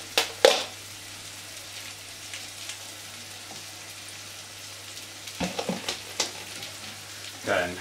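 Cheese and double cream being stirred into mash in a hot pan for a low-carb fish pie: soft, intermittent scraping strokes over a faint, steady sizzle, with a few louder clatters near the start and end.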